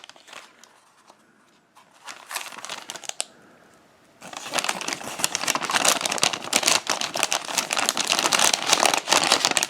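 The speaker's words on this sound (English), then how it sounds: "Sorry about the crinkling, can't be helped." Loud, close crinkling and rustling of plastic packaging on a FEMA-style MRE of sweet and sour sauce with rice and chicken being opened, with brief quieter handling first, then continuous busy crackling.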